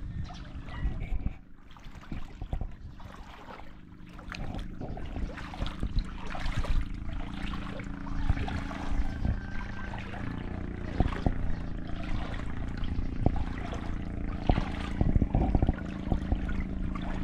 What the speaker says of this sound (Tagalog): Ay, malakas ang alon eh.